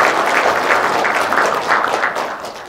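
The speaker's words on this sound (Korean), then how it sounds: "일어나서 박수" A crowd at a Korean press conference claps steadily and fairly loudly for a seated attendee, a continuous wash of applause with no voices over it.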